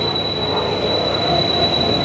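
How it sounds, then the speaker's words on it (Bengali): The 12245 Duronto Express rolls into a station on its Howrah–Bhubaneswar run, giving a loud, continuous rumble of rail cars with a high, steady wheel squeal throughout and no voices. "এই আমাদের ট্রেন ঢুকছে,"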